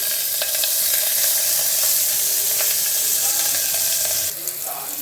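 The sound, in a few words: onions frying in oil with cloves and bay leaf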